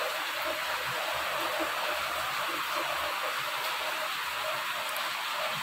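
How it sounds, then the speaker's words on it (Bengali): Rainwater pours through a leaking tin roof into a house, making a continuous broad rushing splash that stays even and fairly loud throughout, with no voices over it. "এখান থেকে জল পড়ে সব ঘরে ভেসে যাবে"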